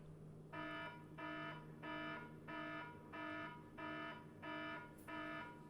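An alarm sounding in the video game Ever17: an electronic beeping tone repeats in evenly spaced pulses, about one every half second or so, steady and fairly quiet over a low background hum.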